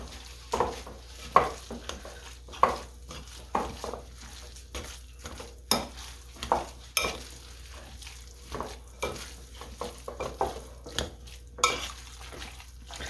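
A whisk works through a meatball mixture in a bowl, its wires scraping and knocking against the sides in a regular rhythm of soft clicks and swishes, close and moderately quiet with no talk.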